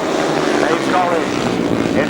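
Motorcycles race on a grasstrack, their engines a continuous roaring drone that rises and falls, with a commentator talking over them.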